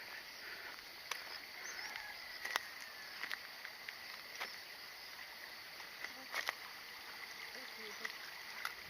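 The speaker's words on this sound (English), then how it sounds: "Sound of the canal on our left." Canal water flows steadily beside a countryside path, a soft continuous wash under a high insect drone, with occasional light ticks and faint footsteps nearby.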